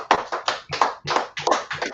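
A brotherhood class clapping hands together in a steady rhythm, about seven or eight sharp, close claps in under two seconds, with no talk.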